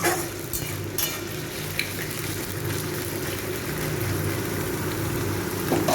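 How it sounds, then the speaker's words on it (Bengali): Soaked chickpeas frying in a pan for a vegetarian banana-flower mochar ghonto, giving a steady low sizzle and stir throughout, close and continuous with a faint background hum. "এইগুলো সব আমি ভালো করে ভেজে নেব।"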